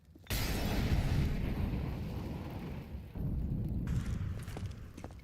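A grenade detonates in a Counter-Strike match at a PGL Cluj-Napoca 2025 esports tournament, a sudden loud blast followed by a sustained roaring rumble that dips briefly and swells again before tapering off.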